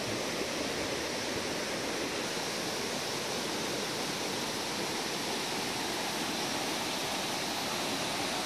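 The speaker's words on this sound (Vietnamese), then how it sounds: "Đây nghe tiếng suối nó chảy vậy." A mountain stream at Suối Đá on Núi Dinh in Bà Rịa–Vũng Tàu rushes steadily over rocks. The broadband water noise stays dense and unbroken throughout, close and fairly loud, with no voices.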